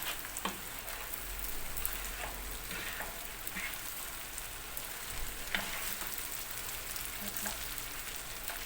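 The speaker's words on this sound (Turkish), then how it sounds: "Pirinci böyle kavurun arkadaşlar." Rice and corn kernels roasting in a pan for Turkish corn pilaf, a steady crackling sizzle running throughout with small pops, close and moderately loud, no talk.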